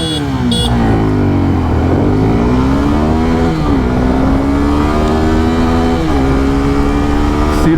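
A 250cc motorcycle, Suzuki Gixxer 250 or Bajaj Pulsar N250, accelerates hard from first gear in an acceleration test. The engine roars loud and close, rising in pitch, then drops briefly at each of two upshifts before climbing again.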